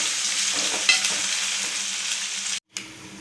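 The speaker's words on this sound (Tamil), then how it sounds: "ஒரு நீல வாக்கில் கட் பண்ணி வச்சுருந்த பச்சை மிளகாயும் இதோட சேர்த்துட்டு நல்லா வதங்குற வரைக்கும் வதக்கி விடுங்க" Onions with ginger garlic paste and green chillies sautéing in a pan, a continuous close sizzle with light stirring, cut off by a brief silent gap near the end.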